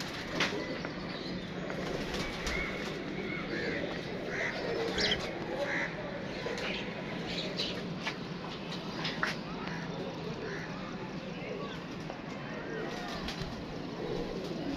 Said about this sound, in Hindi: ये जी कबूतर शबीर भाई लेके आ रहे हैं।